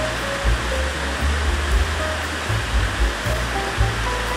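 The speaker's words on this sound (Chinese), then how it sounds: "南安瀑布啊，就是大家在这边看就好啦" Nan'an waterfall in Yuli, Hualien, Taiwan, roars as a steady, loud wash of falling water with deep low rumble, continuous throughout without voices.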